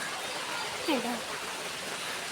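A steady wash of heavy rain fills the air, with a brief voice briefly rising above the constant hiss.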